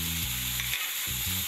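Onion paste sizzles in hot oil while being cooked for egg curry, a close, steady frying hiss broken by low stirring or scraping knocks.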